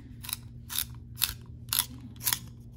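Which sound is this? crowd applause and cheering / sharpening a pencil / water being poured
sharpening a pencil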